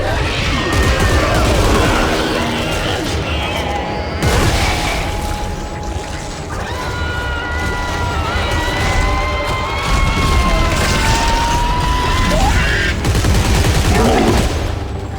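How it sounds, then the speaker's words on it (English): Exploder enemies blowing up in Dead Space 3, loud booming blasts and crashing bursts layered over dense combat noise and a droning score, with sharp surges of impact throughout. "Oh, okay, now we got exploders."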